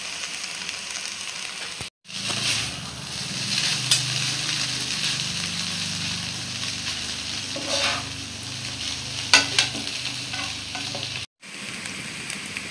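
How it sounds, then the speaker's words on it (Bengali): Chow mein being stirred and fried in a pan with chili sauce and black pepper, a steady close sizzle with scraping stir strokes throughout, briefly cut by two short silent gaps. "চাউমিনটা নেড়ে চেড়ে ভেজে নিয়েছি"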